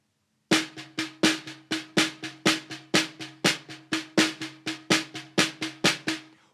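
Snare drum plays a steady run of sharp, crisp strokes grouped in threes and then twos, in the rhythm pattern from Legend of the Alhambra. The hits sound close and fairly loud, with no talking over them.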